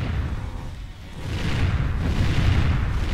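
Missile launches and explosions from the side-scrolling shooter game Xenoraptor, heavy booming blasts that swell and roll continuously, loud and dense with no pauses.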